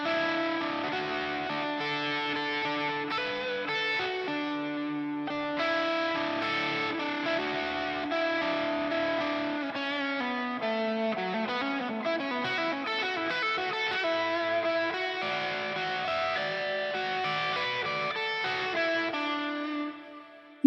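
A distorted electric guitar solo plays a pentatonic lick that slows into ringing pedal tones, loud and continuous without any talk, and cuts off abruptly at the end.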